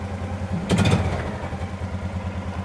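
A Kubota RTV400Ci utility vehicle engine idling: a steady, low, throbbing hum with a brief burst of clatter near the start, then settling back to an even idle.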